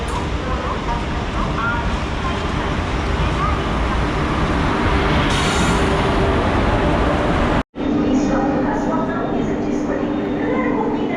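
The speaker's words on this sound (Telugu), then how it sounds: "సికింద్రాబాద్ వెళ్ళే ట్రైన్ అయితే వచ్చేసిందండి" A train bound for Secunderabad pulls into a station with a loud, continuous rumble and rattle that cuts out briefly near the end, while voices talk over it.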